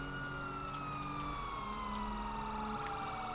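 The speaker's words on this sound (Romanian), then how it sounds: "O să închid și eu girofarul ăsta" A police car siren in GTA V wails steadily with a slowly falling tone, close and continuous over a low engine drone throughout.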